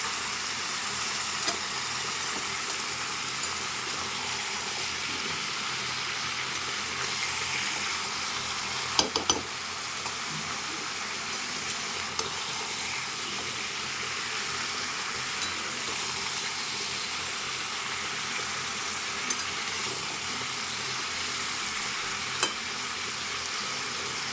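Spinach with turmeric is stirred in a frying pan, giving a faint, steady sizzle with a few soft clinks of the utensil against the pan partway through.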